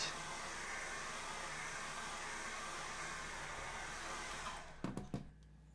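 A heat gun blows a steady, loud hiss of hot air while warming the display adhesive on an iPhone 8, then cuts off near the end, followed by a few brief clicks and taps.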